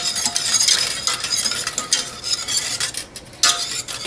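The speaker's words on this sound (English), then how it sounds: "Okay, so just stir that in" An ingredient being stirred into a dipping sauce for chicken or fries until it melts, a steady close scraping and swirling of a spoon in a pan with a faint sizzle, continuous with brief pauses and no talking.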